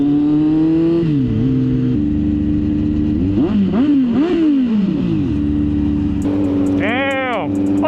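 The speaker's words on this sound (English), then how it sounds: "Had to rev some for these people." Kawasaki Z900 motorcycle engine idling and then revving repeatedly in several sharp rising and falling bursts, loud and close, with a final high whining rev near the end.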